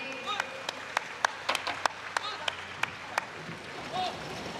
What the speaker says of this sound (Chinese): 请大家掌声鼓励。